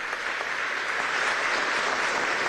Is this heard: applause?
yes